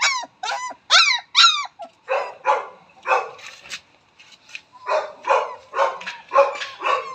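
Several puppies bark and yip in high, squeaky bursts, close up, with short pauses and some whimpering between barks.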